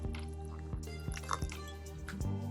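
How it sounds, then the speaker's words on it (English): Warm distilled water poured into a henna gloss mix, giving soft close drips and wet squishing over a steady low background hum. "Then I'm going to add in my warm to hot distilled water."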